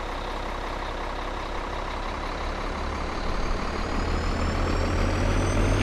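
In a farming video game, a vehicle engine drones steadily as it pulls up beside a harvester, with a low rumble that grows louder and rises slightly toward the end.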